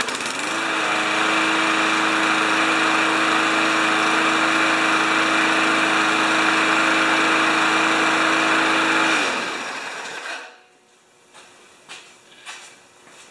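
A Powermore lawn mower engine, freshly repaired after a carb clean and blade sharpening, runs loud and steady for about nine seconds before winding down and stopping, leaving a few faint clicks and knocks.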